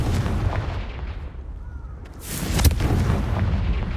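The Confringo explosive spell in Hogwarts Legacy, cast during a spider fight, produces a booming burst after a brief rumbling lead-in, with crackling debris and a rolling low-end tail, loud and close.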